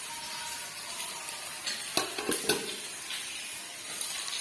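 Fish fries in a pan with a quiet, steady sizzle, a few soft clinks and scrapes of stirring breaking through midway.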